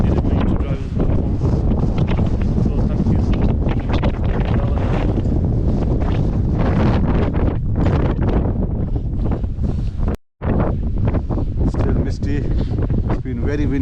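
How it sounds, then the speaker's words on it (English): Strong gusting wind buffets the microphone on an exposed hillside hike to Dovestone Rocks, a loud continuous roar that drops out for a moment near the end, with voices partly masked underneath. "It's been very windy"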